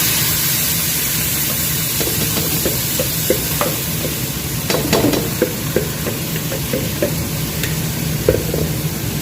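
Soaked American rice tipped into a hot pan, cooking with a steady loud sizzle and hiss, broken by occasional stirring scrapes and clicks, close up with no voices.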